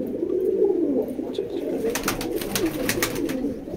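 Rampuri pigeons coo steadily in a breeding loft in Howrah, a low, throaty rolling murmur from several birds close by, with scattered light clicks and rustles over it and no talking.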